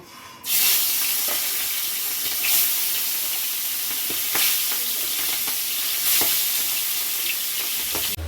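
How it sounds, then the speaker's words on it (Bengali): Loud, continuous sizzle of fish heads frying in hot refined oil, crackling steadily for several seconds with a few brief clatters of stirring. "মাছের মাথাগুলো আমি ভেজে নেব"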